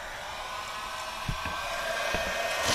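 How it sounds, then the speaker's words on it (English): A cordless DeWalt heat gun blows a steady, close whooshing roar while shrinking heat-shrink tubing onto wire during trailer brake work, with a few faint clicks and taps underneath. "I have a cordless DeWalt heated gun that I have at home"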